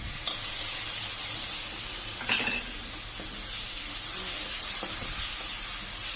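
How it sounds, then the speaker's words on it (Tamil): Onions and ginger garlic paste sautéing in a pan for Indian-style masala macaroni: a steady, close frying sizzle and hiss throughout, with a few faint stirring clicks and no talking. "இந்த வெங்காயம் நல்லா வதங்கிடுச்சு. இதில் நம்ம இஞ்சி பூண்டு விழுத சேர்த்துடலாம்."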